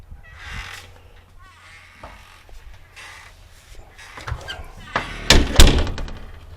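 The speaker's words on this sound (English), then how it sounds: "I better close the door." Shuffling and light bumps build to a couple of loud thuds near the end, like a door being pushed shut, with faint voices and an animal bleat in the background.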